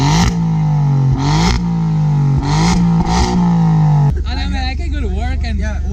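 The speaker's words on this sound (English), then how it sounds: "This is stock exhaust." A stock-exhaust turbocharged car revs up steadily and loudly for about four seconds, holding a strong droning tone before cutting off, after which a person talks over the idling engine.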